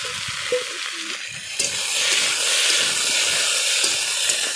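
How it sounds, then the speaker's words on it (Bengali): Fried okra and potatoes drop into hot oil seasoned with nigella seeds, giving a steady close hissing sizzle with light stirring clatter, no talk. "এই যে রান্না করতে চলে এসেছি, একটু কালো জিরা ফোড়ন দিয়েছি তেলে, আর এর মধ্যে আমি দিয়ে দিচ্ছি ভেজে রাখা ঢেঁড়স আর আলু।"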